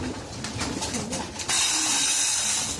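Racing pigeons coo softly and repeatedly at close range while feeding, with a steady rustling hiss rising partway through.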